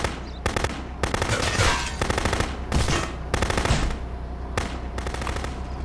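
Rapid automatic gunfire in the video game Contraband Police during a van chase, loud and close, coming in dense bursts with short gaps between volleys.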